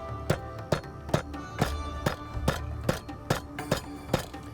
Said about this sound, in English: you have to pick up a cooking hammer and bash it down so that it gets soft